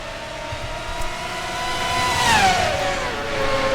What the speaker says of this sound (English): the 55, Noah Clifton, who's going to lead the field out of turn 11 down the front straightaway.